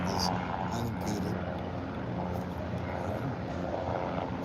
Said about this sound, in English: there's the helicopter making sure the soccer game is unimpeded